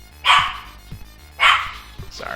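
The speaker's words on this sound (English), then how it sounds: "dog's going nuts" A dog barks nearby in two loud separated bursts, each a sharp woof with a softer echoing tail, while faint game music plays underneath.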